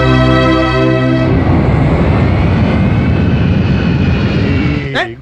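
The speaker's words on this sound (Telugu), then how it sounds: "విమానం వచ్చే టైం అయిపోయింది." An airplane arriving at an airport roars close and loud, a whining engine tone giving way to a steady, heavy rush of jet noise that cuts off abruptly at the end.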